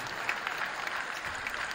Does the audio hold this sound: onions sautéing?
no